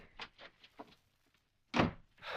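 A door in a radio drama swings open and shuts: soft creaks and knocks, a pause of near silence, then a heavy thudding close followed by a rush of noise.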